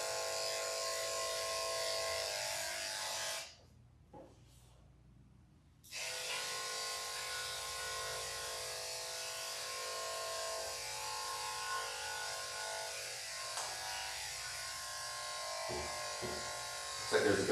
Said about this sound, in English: Now I can get my clipper blade to the inside of that leg.